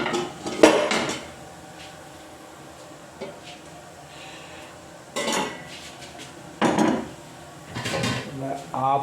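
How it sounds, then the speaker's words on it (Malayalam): Apple pieces for apple pickle going into a pan, with several loud metallic clanks of utensils against the pan in separate bursts, close by, under intermittent talk. "ആപ്പിൾ ഇടുന്നു."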